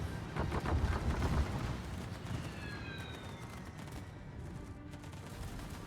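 The secondary guns of the battleship Gneisenau fire in the World of Warships video game, sending a dense rapid fusillade of gunshots over a rumbling background that eases into steady battle noise with faint whistling shells.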